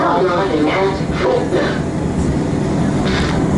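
Riding an Upfield line train, a constant heavy rumble of carriage and track noise fills the cabin while a voice speaks briefly over it near the start.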